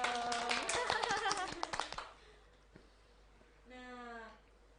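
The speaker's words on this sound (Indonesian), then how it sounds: "Tepuk tangan dulu dong." Hands clapping in a brisk burst of applause from a small group for about two seconds, then it stops, and a short voice follows.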